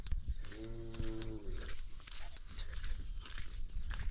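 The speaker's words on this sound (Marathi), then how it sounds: "गाय तिकडे हंबरडा फोडायला लागली" A single low, drawn-out cow moo at moderate distance, followed by outdoor background noise and faint shuffling.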